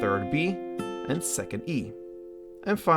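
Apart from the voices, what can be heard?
None of the usual background noises is heard.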